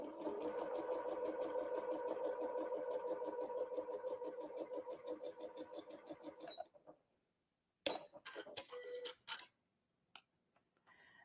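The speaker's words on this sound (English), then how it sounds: "So I'm going to just bring this over and sew right on that line." A sewing machine runs a quilt block seam for a barn star pattern, humming with a fast, even stitching rhythm for several seconds, then stopping before a few short, close bursts of stitching.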